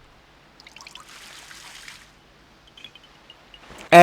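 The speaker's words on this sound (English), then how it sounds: "Let's give it some water." Water from a watering can trickles faintly onto a tree in The Legend of Zelda: The Wind Waker HD, a soft, quiet dribbling that is cut off by a sudden loud burst at the very end.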